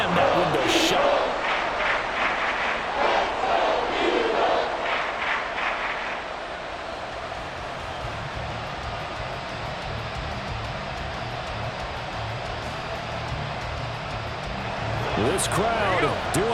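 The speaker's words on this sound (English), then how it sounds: "This crowd doing all they can." Stadium crowd roaring in the Madden NFL 24 football video game, a dense continuous wash of cheering that dips slightly midway and swells again near the end, with a commentator's voice over it.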